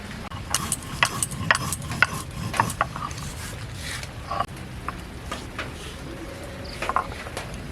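Roasted cumin is crushed on a stone slab with a grinding stone, giving rough, irregular scraping and knocking strokes at close range, fairly quiet and steady, with no talk.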